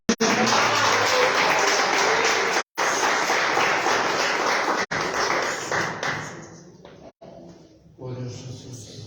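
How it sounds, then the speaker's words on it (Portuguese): A church congregation applauds during a December campaign service, producing dense, loud, sustained clapping with a few abrupt breaks. Near the end the clapping thins and voices come through. "e as palmas ao Senhor."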